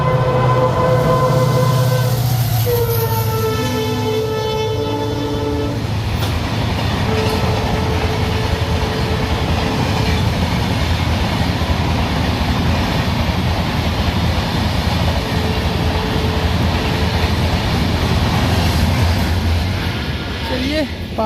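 An old Indian double-decker local train rolls past with a steady, loud rumble and clatter, its horn sounding in long tones over a steady roar. Someone talks now and then.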